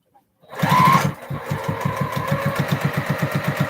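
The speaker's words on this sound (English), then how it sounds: "Line that seam up to my needle and just continue to sew." A sewing machine runs a seam at a steady pace, a close, even rhythmic chatter of the needle that starts after a brief motor whir and keeps going alone.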